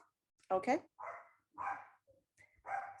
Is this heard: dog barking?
yes